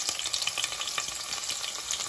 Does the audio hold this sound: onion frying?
yes